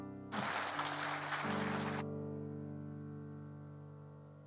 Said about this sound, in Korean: 오늘 그렇게 일하실 주님께 먼저 큰 박수로 영광 올려드리겠습니다